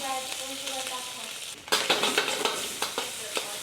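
Slices of Spam frying in a hot pan, a bright crackling sizzle with scraping and stirring taps that grow louder after a brief pause.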